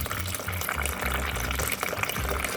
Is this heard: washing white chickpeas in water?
yes